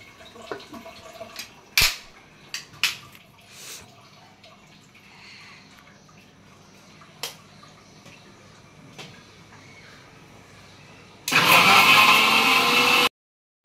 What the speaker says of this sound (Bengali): শুটকি, রসুন, তারপর টমেটো আর শুটকি এই যে ব্লেন্ডার করে নিছি।